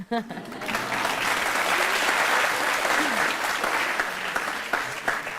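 A studio audience at a televised courtroom-style talk show bursts into sustained, loud applause, with voices talking over the clapping as it continues.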